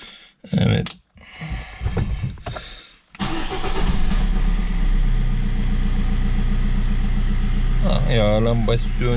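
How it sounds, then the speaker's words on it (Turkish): After brief talking and cranking, a diesel Opel Combo van engine starts up following an oil and filter change and settles into a steady, close idle that runs on to the end. "Şimdi araç daha çalışıyor."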